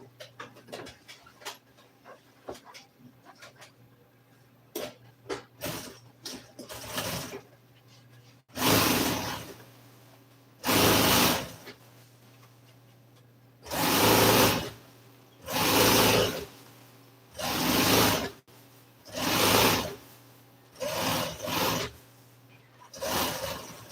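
Sewing machine stitching F-100 seat upholstery in an auto interior shop: scattered short clicks and taps, then a series of loud, evenly spaced bursts of rapid stitching, each lasting about a second, close by with no talk.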